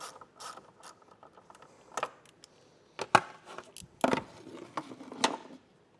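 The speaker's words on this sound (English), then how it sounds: "I like to keep downward pressure on it while I'm loosening the nut." Wrench working a 13 mm nut loose on a stud during a trailer tail light converter install on a 2023 Mercedes-Benz, with sparse close metallic clicks and ratcheting ticks separated by quiet gaps.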